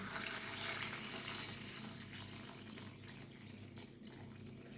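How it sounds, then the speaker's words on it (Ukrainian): Marinade pours into a small bucket of tomatoes with celery set in a bowl, a faint, continuous splashing trickle of liquid that gradually softens. "Беремо одне відерце, ставимо в мисочку і заливаємо маринадом."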